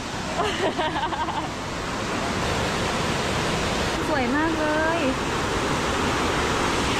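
A waterfall at Pre To Lo Su in Thailand, visited in the morning, gives off a steady, broad rushing roar that fills the whole clip, with someone speaking briefly over it.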